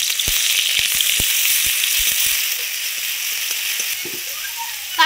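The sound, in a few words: onion paste sizzling as it is added to hot oil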